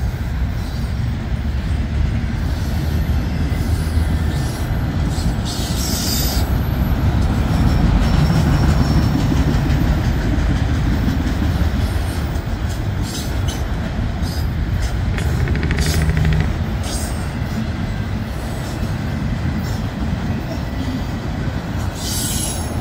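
A CN freight train of empty auto racks rolls past at Halton, a loud, continuous rumble of wheels on rail with squealing and clanking running steadily throughout.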